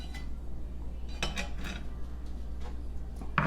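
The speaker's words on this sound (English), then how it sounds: "So we're going to take this and carefully transfer it onto our cast iron skillet." Food is moved onto a cast iron skillet for Sunday breakfast, with a few light metallic clinks and scrapes of utensils against the pan over a steady low hum. The sounds are close and soft.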